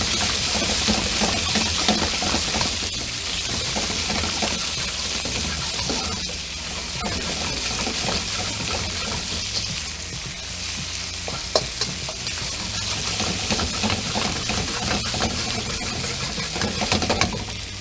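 Bell peppers and marinated steak stir-fry in a hot pan, a steady loud sizzle with scraping and stirring clatter running throughout, no voices.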